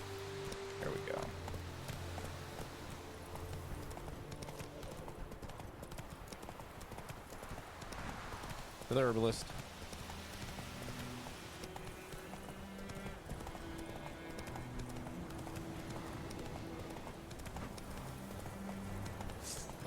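Roach the horse gallops in The Witcher 3: Wild Hunt, hooves clip-clopping rapidly and continuously under game music, with a brief snort and a short spoken line partway through.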